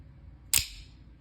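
A Microtech Scarab 2 automatic knife blade retracts with a single sharp metallic snap, close and crisp, against a quiet background.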